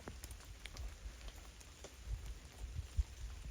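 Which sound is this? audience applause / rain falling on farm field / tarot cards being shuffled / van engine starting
rain falling on farm field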